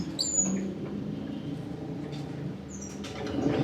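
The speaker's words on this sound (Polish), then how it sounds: "Ładne te ptaszki." Small birds chirping in an aviary, a few sharp high chirps near the start and again later over a low background murmur.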